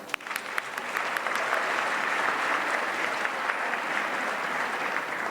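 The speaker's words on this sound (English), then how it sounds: "Please join me in applauding each of our dedicated and supportive sponsors." A gala audience applauds the event's sponsors, steady full-room clapping after a few scattered first claps, holding even throughout.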